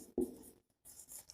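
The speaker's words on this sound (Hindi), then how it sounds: "मैं थोड़ा ऊपर लिख देता हूं यहां पे" Writing on a board during a meteorology lesson, with short scratchy strokes close by and a brief pause between them.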